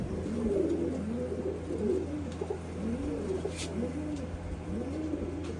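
Pigeons kept for a Punjabi pigeon-flying contest coo steadily in low, repeated rolling calls, a continuous overlapping chorus close by with a faint steady hum underneath.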